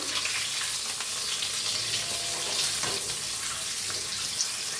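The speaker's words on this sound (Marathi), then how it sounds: "मी तेल मी चांगलं तापलंय आता हे अंडी सोडून घेऊया तेलात" Eggs sizzle in hot oil for a village-style egg curry, making a steady, loud hiss of frying that continues unbroken with no talking.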